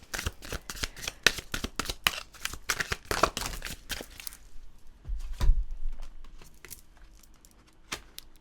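Tarot cards being shuffled: a rapid run of crisp riffling flutters for about four seconds, then a few softer slides and taps of the deck, close and without talk.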